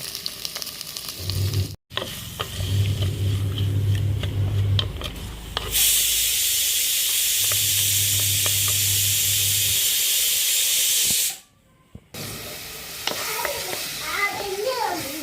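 Onion, tomato, green chilli, garlic and ginger sauté in coconut oil in a clay pot for a fish curry. Close, steady sizzling and hissing mix with stirring scrapes, broken by a couple of brief pauses.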